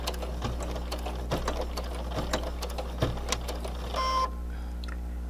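A sewing machine runs steadily, stitching fabric for a mask with a filter pocket, with a brief whirring change near the end before it stops; no one speaks.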